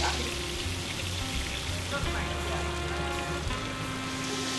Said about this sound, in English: All right, Tyler, I'm gonna turn this down because it's so high and it's popping